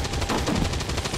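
Rapid automatic gunfire from a flanking shot in XCOM 2: War of the Chosen, a steady rattling burst of evenly spaced shots filling the whole short moment, close and loud.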